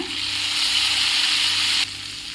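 Tomatoes dropped into a pan of frying garlic, dried red chillies, green chillies and onion, giving a loud, steady hiss and sizzle that eases slightly near the end, with no talk.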